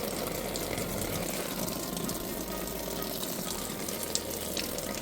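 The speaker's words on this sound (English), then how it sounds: "No, it's a waterfall." A small waterfall in a newly built backyard pond pours steadily, a continuous close gushing and trickling wash of water with no voices.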